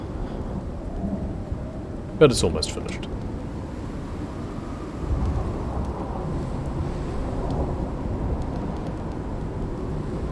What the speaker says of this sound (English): So it's still stormy.